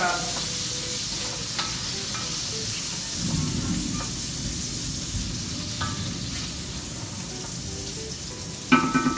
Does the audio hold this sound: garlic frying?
yes